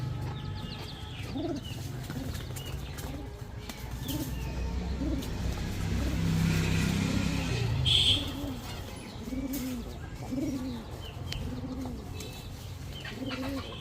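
Giribaz high-flyer pigeons, a cock and his hen sitting on eggs, coo in repeated soft, low rhythmic phrases close by, with faint chirps and rustling around them.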